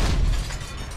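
A grenade blast in the zombie game Dying Light, a deep, loud boom rumbling through the whole second with heavy low-end weight and a slowly easing tail, no voices over it.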